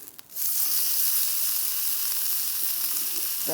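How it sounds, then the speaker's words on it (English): Steady, loud sizzling of sausage frying in a pan, a continuous hiss starting abruptly after a brief moment and holding evenly. "So here's my 1 sausage that I'm frying up."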